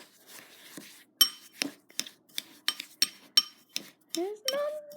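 A spoon stirring snow ice cream mixture in a bowl, giving a series of sharp clinks and scrapes in an uneven rhythm, close and fairly loud, with a brief voice near the end.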